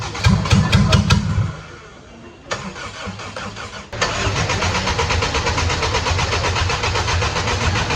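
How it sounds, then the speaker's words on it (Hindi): A car starter cranks a petrol engine that refuses to catch, a rapid whirring churn that stops, pauses, then resumes in a steady loud grind, close by and heard alone. "सेल्फ तो बज रहा है, इंजन बोल भी रहा है।"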